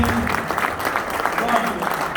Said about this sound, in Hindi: सर की जो संघर्षपूर्ण तालियां आपने सुनी